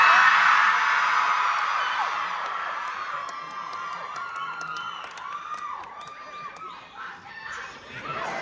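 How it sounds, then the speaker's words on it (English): Girls in a live festival audience give a Beatles-style scream for Paul McCartney: a loud, high, sustained shriek from many voices that starts strong and gradually tapers, with scattered whoops near the end. "I would like to hear all the girls give a Beatles scream"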